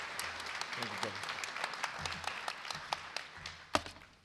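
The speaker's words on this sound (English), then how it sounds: "give another round of applause to Sheriff Gabe Morgan one more time." Clapping from a crowd at a sheriff's office promotion awards ceremony, loose and uneven with distinct individual claps standing out, while voices murmur and call out beneath it throughout.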